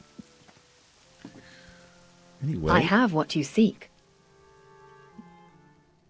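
Steady, soft rainfall in the video game World of Warcraft Cataclysm Classic patters quietly in the background while a voice speaks briefly over it.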